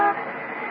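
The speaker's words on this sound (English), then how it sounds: "a big fancy truck nearly sideswiped me" A big truck passes close by as a radio drama sound effect, a loud, steady engine roar with a blaring horn-like tone that holds through the whole short stretch, with no voices over it.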